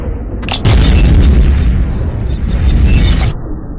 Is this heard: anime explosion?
yes